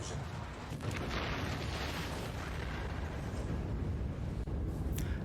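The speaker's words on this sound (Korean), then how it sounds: "원자로 폭발까지." Chernobyl nuclear reactor explosion as a sound effect: a sustained, dense rumbling roar of blast and debris that holds steady for about five seconds, broad and heavy, with no voices.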